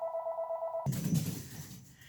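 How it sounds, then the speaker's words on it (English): A telephone rings indoors with a steady electronic tone that cuts off abruptly, followed by faint rustling and handling noise. "The phone was ringing."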